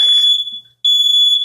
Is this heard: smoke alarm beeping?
yes